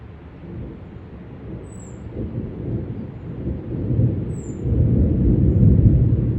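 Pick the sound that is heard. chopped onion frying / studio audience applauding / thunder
thunder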